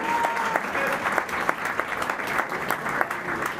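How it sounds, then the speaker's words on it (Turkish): Steady, dense audience applause at a Turkish stage event welcoming a performer, sustained crowd clapping with a faint voice underneath. "Alkışlarınızla"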